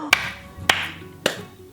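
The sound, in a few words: hand clapping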